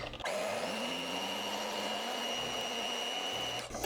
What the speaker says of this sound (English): I'm going to use the whisk attachment on the mixer and see what that does.